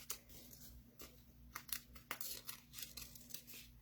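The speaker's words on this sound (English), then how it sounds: "take your microtip scissors and just trim" Microtip scissors trim small paper flames on a handmade card, giving a quiet run of crisp, irregular snips and light paper rustles close by.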